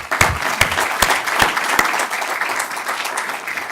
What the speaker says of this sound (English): So join me in a round of applause for them.